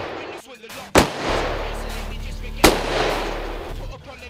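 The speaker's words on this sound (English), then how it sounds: "Unbelievably, in these conditions, Ian managed to bag four wild boar with four shots as they bolted across the ride in front of him." Merkel RX Helix straight-pull rifle fired at running wild boar, two sharp loud shots about two seconds apart with a low rumble between and after them.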